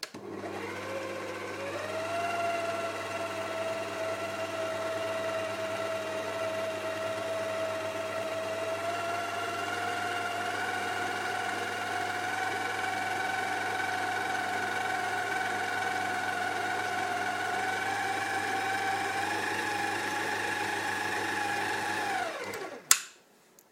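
An electric mixer runs steadily, blending white chocolate cake batter for a Swedish cake, its motor whine holding near and continuous before cutting off with a brief clatter at the end.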